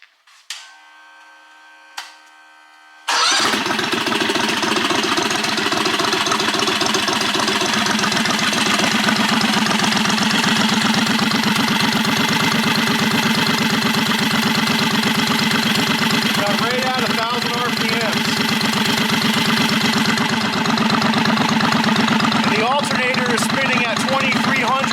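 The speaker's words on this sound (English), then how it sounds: "So I'm going to start with a slow idle and then bump it up to a fast idle" After a few faint clicks, the small engine of a John Deere 214 mower fires up and settles into a loud, steady, rumbling idle that runs on, with a voice speaking over it.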